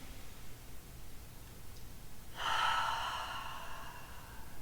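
A single deep inhale during yoga breathing, a soft rushing breath rising midway and fading slowly over quiet background hiss.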